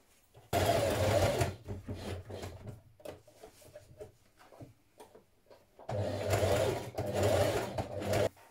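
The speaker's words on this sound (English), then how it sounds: "we're going to stitch in the ditch here all the way around" A sewing machine stitches in the ditch around the lining of a Vogue 1777 pullover dress, running in two steady close bursts with quieter handling and fabric shuffling between them.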